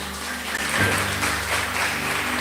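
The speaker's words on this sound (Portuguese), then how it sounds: "Aplauda o Senhor bem forte." A church congregation at a home worship service claps loudly together, a continuous thick burst of applause with a low hum running underneath.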